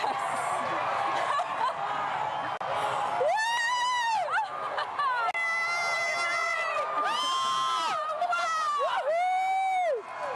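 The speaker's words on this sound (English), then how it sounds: "Wow, the crowd is counting down." A large crowd outdoors at a solar eclipse viewing, cheering and shouting in swelling waves with whoops and laughter, loud and close, with excited voices talking over it.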